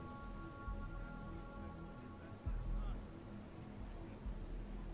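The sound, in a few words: rain falling in Starfield video game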